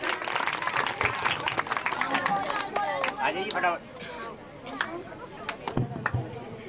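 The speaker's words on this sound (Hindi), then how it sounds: "जोरदार ताली से स्वागत करेंगे सबका" A loud crowd claps densely to welcome performers onto the stage at a cultural evening honouring Kargil War heroes, with the applause thinning midway while a babble of voices and a speaker carry on over it.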